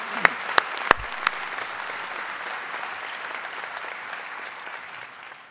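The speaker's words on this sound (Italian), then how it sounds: "E quindi a tutti questi signori un altro nostro applauso." Applause from an audience at a student day celebration, a few sharp early claps swelling into steady crowd clapping that gradually fades toward the end.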